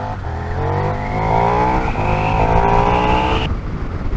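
A 2024 KTM 1390 Super Duke R motorcycle accelerating hard, its loud engine note climbing steadily in pitch through the gears, close and dominant, before easing off near the end.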